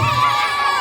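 A crowd of spectators shouts and cheers together for their team at the opening of a neighbourhood basketball league, a loud, dense burst of voices lasting under a second.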